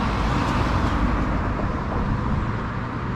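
Steady roar of passing cars and road traffic on a French roadside during a motorcycle trip, a dense, continuous rumble with no pauses, fairly close and loud throughout.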